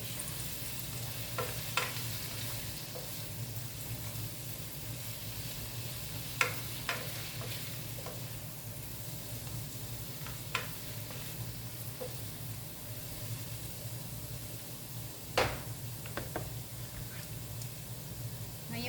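Cucumber sautés in butter and garlic with a steady close sizzle, while a spatula stirring the pan adds scattered sharp clicks and scrapes; no one speaks.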